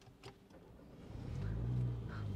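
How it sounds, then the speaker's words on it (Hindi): A MINI John Cooper Works car engine starts up, a low rumble swelling after about a second and settling into a steady, moderately loud idle close by, with no talking. "उसके बाद में गाड़ी में स्टार्ट कर लेता हूँ।"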